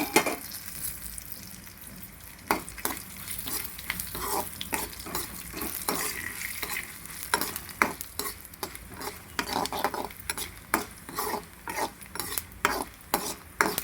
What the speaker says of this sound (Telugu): ఇప్పుడు అదే ఆయిల్లో మేము ఎండుమిర్చి, ధనియాలు, మెంతులు, జీలకర్ర అన్నీ బాగా దూరగా వేయించుకోవాలండి.